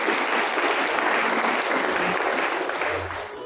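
An audience at a company business presentation breaks into dense, sustained clapping that stays loud and even for several seconds, then begins to thin toward the end.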